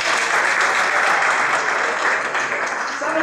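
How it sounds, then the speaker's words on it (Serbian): Loud, sustained applause fills the hall from an audience at a singer's 20-year career jubilee concert, a thick, even roar of many hands with no gaps. "Hajde, imam aplauz od sebe."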